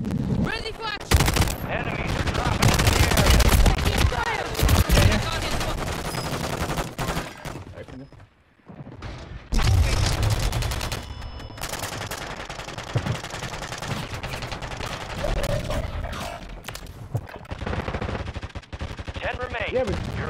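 Sustained video game gunfire, rapid automatic bursts and heavy shots filling nearly the whole stretch with one brief lull midway, voices talking over the shooting.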